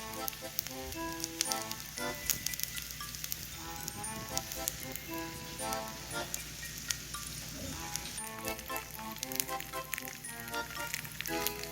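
Hot oil sizzles and crackles steadily in a pan frying gomchwi pancakes, a constant close hiss with scattered pops, while music plays in the background.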